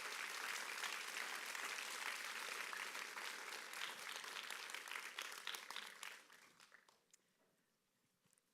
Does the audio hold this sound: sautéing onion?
no